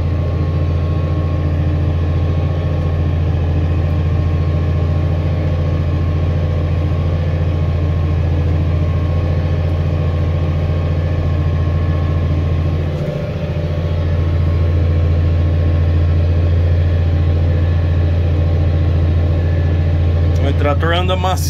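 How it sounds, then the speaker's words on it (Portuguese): A tractor engine runs steadily while subsoiling a field after rain, a loud, constant low drone that holds through the whole stretch with a brief dip partway, with voices talking over it. "O trator anda macio, né, cara? Não treme nada."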